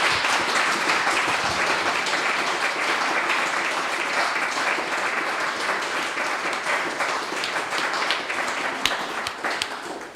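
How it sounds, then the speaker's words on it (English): An audience at a live poetry event gives a long round of applause for poet Kate Garrett, loud continuous clapping sustained for about ten seconds and tapering slightly near the end. "another big round of applause, please, for Kate"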